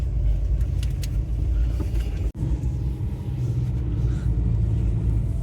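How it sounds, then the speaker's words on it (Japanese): A manual kei truck's engine idles steadily nearby, a continuous low rumble with one brief sharp dropout partway through and no talk. "マニュアルの軽トラ。"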